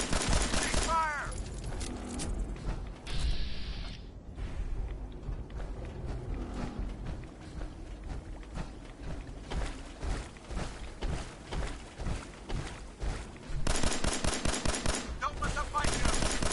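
Bursts of automatic and single-shot gunfire in a Fallout 4 firefight rattle in dense rapid volleys across the scene, pausing briefly before resuming, loud and close throughout.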